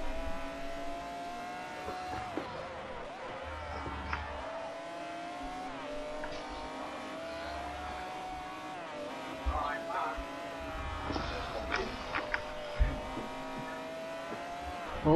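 A BMW races in the Forza 4 video game: the engine revs and shifts pitch, and the tires squeal briefly, all under a player's occasional comments.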